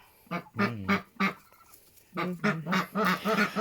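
A domestic drake kept on a farm, bred to resemble a wild mallard with a green head, ashy body and brown breast, gives two bursts of harsh, nasal calls close by, broken by a short pause.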